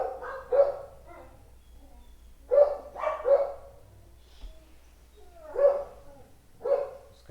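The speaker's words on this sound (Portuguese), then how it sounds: "Os cachorros." Several dogs bark in separate bursts, a pair of sharp barks near the start, a cluster around the middle and more toward the end, fairly close and moderately loud over a quiet low hum with no talking.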